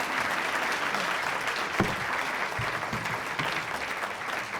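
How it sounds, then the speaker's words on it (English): A City Club of Chicago audience gives a sustained round of applause, dense steady clapping that fills the room at an even level from start to finish. "let's give a big round of applause."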